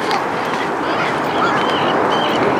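Ducks and swans call at a pond, a loud, steady chorus of honks and quacks blending over continuous outdoor background noise.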